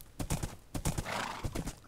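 Horse hooves clip-clopping in quick bursts in Minecraft, with a whinny partway through; the steps sound close and fairly loud with no talk over them.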